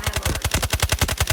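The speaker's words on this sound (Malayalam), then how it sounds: "എവിടുന്ന് കടക്കടയാന്ന് വെടി വന്നല്ലോ." Rapid automatic gunfire crackles in Delta Force Mobile on the Brakkesh map, with a steady stream of about a dozen evenly spaced sharp shots per second, loud and close without any talk.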